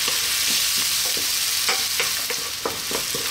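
Garlic and ginger stir-fry in a pan on high heat, with a loud, constant sizzle and repeated scrapes and taps as the food is stirred and kept moving, with no voices.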